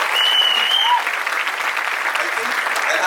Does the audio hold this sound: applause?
yes